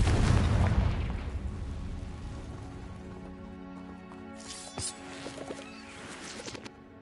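A Confringo blasting spell in a wizard video game goes off with a loud, booming explosion at the start, then decays into a crackling, debris-like rumble with scattered smaller pops.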